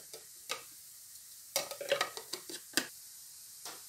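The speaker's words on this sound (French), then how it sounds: "persil et coriandre, et tu vas tout hacher ensemble" A knife chops parsley and coriander together on a board: quiet, irregular taps that come in a quick cluster in the middle, with short gaps of near silence between.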